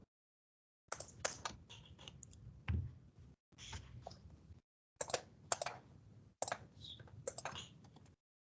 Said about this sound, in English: You're still typing.